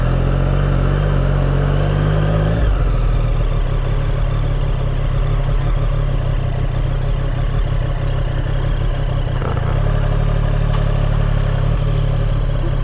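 Motorcycle engine idling close by at a roadside rest stop on a country road in Shizuoka, then a steady low rumble as a bike pulls away and rides off, with clattering engine noise continuing throughout.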